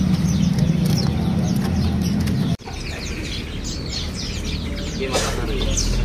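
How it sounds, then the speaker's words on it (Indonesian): Pied bushchat (decu kembang) singing among other caged birds at a busy bird market, with short chirps and whistles scattered over a steady crowd murmur and nearby voices. "Di depan kita ini ada burung decu kembang ya."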